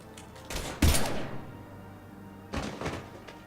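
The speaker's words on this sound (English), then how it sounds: "Now open fire!" Gunfire in the video game Mass Effect 3: a heavy, booming blast with a rumbling tail, followed about two seconds later by a second, softer burst of shots.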